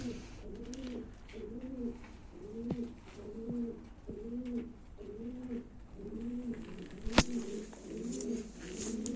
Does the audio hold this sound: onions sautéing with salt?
no